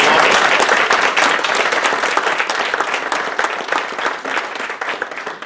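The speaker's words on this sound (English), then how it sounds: "So let's everyone give Mike a round of applause." Rotary club members at a meeting give a round of applause, loud dense clapping at first that gradually thins and fades over a few seconds.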